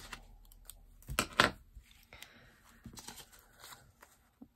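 Scissors snip paper for a small collage, heard close up and fairly quiet. A couple of sharp cuts come near the start, followed by lighter rustling and handling of paper.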